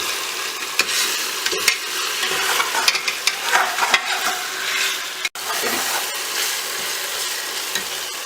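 Ginger-garlic paste fries in a pot with fennel seeds and coriander stems for mutton biryani, a loud busy sizzle with frequent clattering scrapes of a spoon against the metal, and no one speaking.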